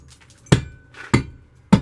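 An old hand tool chips rotten plaster off a crack in a wall, landing three sharp, close impacts spaced roughly evenly apart, with quiet scraping between blows.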